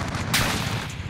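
Sustained gunfire in Call of Duty Modern Warfare, an AUG SMG with light tracer rounds among the weapons, crackling steadily throughout with a sharper burst about a third of the way in, loud and close with no talk.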